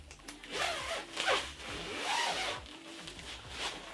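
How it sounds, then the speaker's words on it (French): Zipper being pulled open along a photography reflector case, a close, scratchy rasp in several strokes over about four seconds, heard alone. "Vous avez une fermeture juste là."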